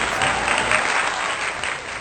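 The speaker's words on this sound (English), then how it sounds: "we got to give a round of applause" Steady, dense applause from a crowd, loud and continuous throughout, with no talk over it.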